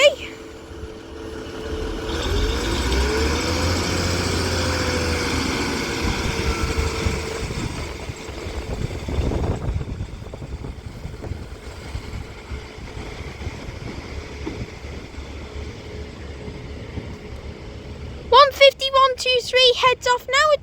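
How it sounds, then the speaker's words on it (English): Northern Class 150 diesel multiple unit pulling out of Wigan Wallgate station on a Blackburn to Headbolt Lane service, its engine droning loudly at first, then the noise fading as it leaves, with a sharp squeal or horn-like tone near the end. "Heads off now with the 1611 Northern service to Headbolt Lane from Blackburn"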